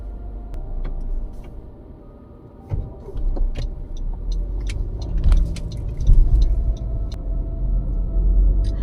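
A car travelling fast along a road, its steady low engine and tyre rumble filling the whole stretch, swelling a little at times, with small rattles and clicks from inside the cabin.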